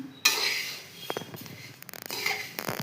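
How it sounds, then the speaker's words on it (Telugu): Dry vermicelli (semiya) roasts in a pan on a stove, a spoon scraping and clinking against the metal in short, irregular strokes, with a sharp clank near the start. "ఓన్లీ సేమియా వేసి ముందుగా వేపుతున్నాను"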